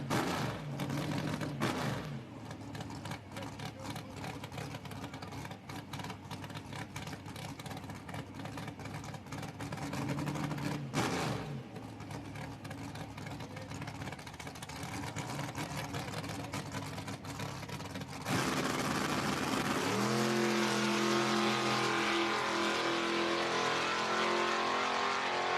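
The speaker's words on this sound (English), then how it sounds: "looks like this might be a bye run here for the S10 pickup truck in the left lane" A Chevrolet S10 pickup truck makes a solo drag racing bye run at National Trail Raceway, its engine roaring loud and steady throughout, with sustained harmonic drone shifting in pitch as it accelerates down the strip.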